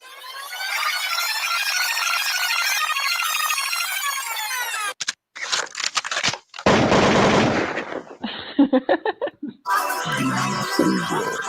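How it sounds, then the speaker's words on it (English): Gunshots fired, heard as rapid machine-gun-like bursts: a long sustained rattle followed by choppy, broken volleys of shots, loud and close with no talking. "when y'all hear the shots fired"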